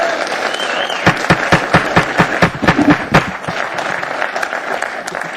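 Applause from an audience at a special assembly meeting, loud, sharp individual claps in an uneven rhythm from a modest group nearby, thinning into scattered clapping and murmuring by the end.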